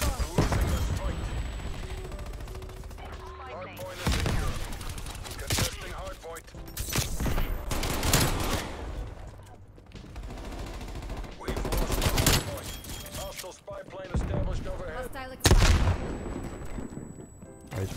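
Dense automatic gunfire and explosions roar through a Call of Duty: Cold War match in loud sustained bursts, with a player talking over the action.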